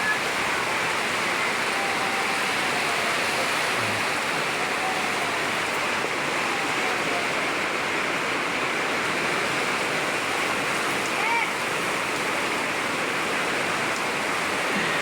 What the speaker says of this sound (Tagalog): nakita niyo naman kung gaano kalakas ang ulan